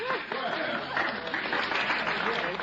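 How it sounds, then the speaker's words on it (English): A radio-drama studio audience applauds after a card trick, a brief burst of steady clapping under a murmur of voices with a faint chuckle. "thanks, ladies and gentlemen, for your kind applause"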